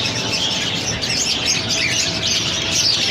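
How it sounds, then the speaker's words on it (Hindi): A 2 to 2.5 month old grey parrot chick calls in a busy pet bird shop. Dense, continuous high chirping and squawking, from many birds, fills the space at a steady loud level. "सर ये गिरे पैरेट का बच्चा है अभी हमारे पास।"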